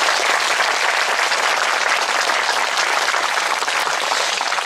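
Steady, full applause from a large seated audience at a public lecture hall, dense and even throughout with no voices breaking through.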